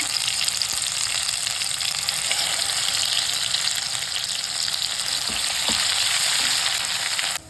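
Spice masala with mustard seeds and cumin sautéing in oil, a dense, loud, continuous sizzle and crackle close at hand, with a couple of faint stirring knocks.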